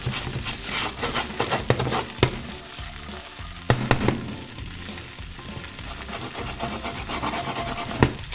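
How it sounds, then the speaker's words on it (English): Garlic and cherry tomatoes frying in olive oil in a hot pan, a steady loud sizzle with scraping and clicking as they are stirred constantly, close up and without speech. "Add our garlic and tomatoes to the pan, constantly moving for a minute to 2."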